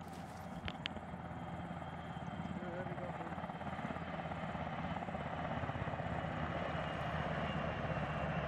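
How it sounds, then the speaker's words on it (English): A helicopter drones steadily from a distance in Arma 3, a continuous low rotor rumble filling the scene beneath game background noise. "Helicopter south."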